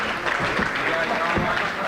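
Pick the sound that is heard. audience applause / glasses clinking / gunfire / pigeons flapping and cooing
audience applause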